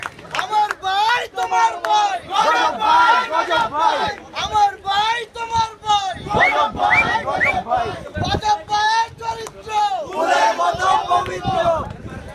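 A crowd chanting political slogans, loud and close, with shouted voices rising and falling in rhythmic calls and responses that continue without a break.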